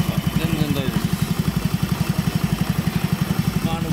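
A restored Yamaha Majesty 125 scooter with a rebuilt engine and swapped cylinder idles steadily close by, a regular low chugging pulse running evenly throughout with no knocking or odd noises.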